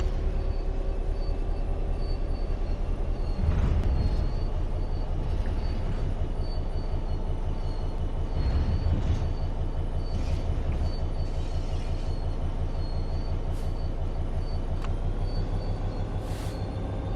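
A diesel locomotive coasting on level rails in Train Sim World 4, with a steady rolling rumble and rhythmic clacking of wheels over rail joints, faint squeals and brake hiss, continuous and close for the whole stretch.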